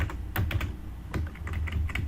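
Someone types on a computer keyboard in quick, irregular keystrokes with short pauses, close and clear with no talk.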